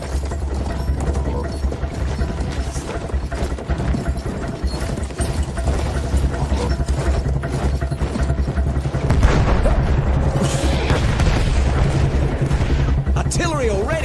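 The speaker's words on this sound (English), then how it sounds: "Artillery fire ordered to cover retreat to beach, shelling the village and outlying forts." Artillery shelling in Battlefield 1 as guns pound a village and forts, a dense continuous roll of booms and gunfire under shouted voices and a talking narrator.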